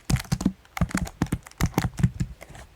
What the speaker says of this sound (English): I'll just go ahead and try to type in some basic JavaScript like console.log